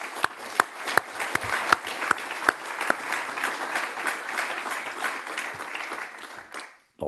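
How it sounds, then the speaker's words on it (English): Audience applause at a naval conference, opening with a few sharp, distinct claps before swelling into steady, moderate clapping that fades out near the end. "Donc, je vous propose de l'applaudir."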